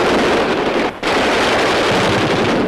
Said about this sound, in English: On the firing range, they try out the latest machine guns. A 50-millimeter aerial defense weapon with plenty of kick.